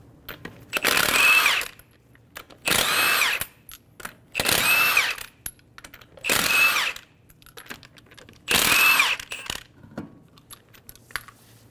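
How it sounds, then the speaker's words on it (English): A power wrench with a 21 mm socket loosens the five wheel lug nuts on a 2007-2011 Toyota Camry. It runs in five separate loud whirring bursts, each with short quiet gaps between them. "Using a 21 millimeter socket, remove the five lug nuts"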